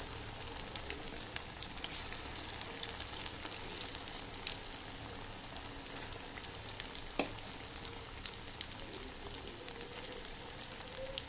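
Food dropped piece by piece into hot oil in a home kitchen, fizzing and sizzling with a steady crackle, close and continuous, with occasional small pops.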